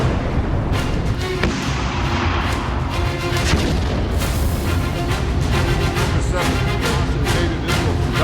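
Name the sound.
explosions from Israeli bombardment of Hezbollah headquarters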